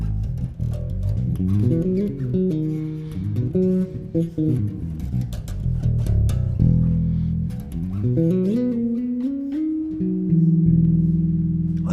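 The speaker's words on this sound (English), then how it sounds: "And then both of them together sound like this." An F bass guitar with neck and bridge pickups blended plays a flowing bass line of sliding and sustained notes, full and close, ending on a held low note, with no voices.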